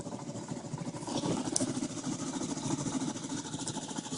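A sailboat motors out of a marina under engine power, leaving for the first time. A steady mid-pitched engine drone runs throughout without pause, with faint water and hull noise.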